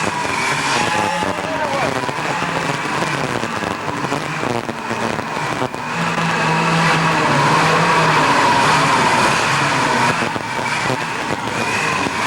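Two-cycle go-karts racing on the Orange County Fair Speedway Thunderdome oval, a dense continuous buzz of many small engines droning and whining together at steady high volume, with race announcing blended in underneath.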